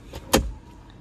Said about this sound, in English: You open the door, the steps comes up